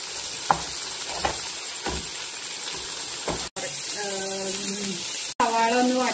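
Onions sauté in a pan for Kannur-style prawn biriyani, giving a steady hiss with soft stirring knocks. Two brief cuts follow, and then a voice speaks over the continuing fry.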